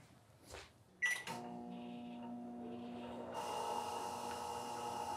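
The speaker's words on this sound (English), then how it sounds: "You can hear my microwave's noise" A microwave oven drawing about 1800 watts: a steady electrical hum with a faint high whine runs throughout after a few brief clicks, growing slightly louder and brighter toward the end.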